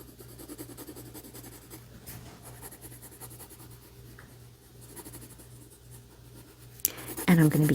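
Colored pencil scratches steadily across paper while coloring in bread on a sandwich drawing, a soft continuous scribbling close by with quiet room noise and a brief louder clunk at the end.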